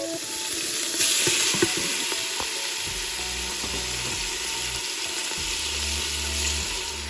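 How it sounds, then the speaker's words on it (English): Beef browns in a hot pan for Cuban stew, a continuous close sizzle with bursts of stirring and scraping layered over the frying, no voices. "So I'm going to saute this for about 5 minutes until it browns on all sides"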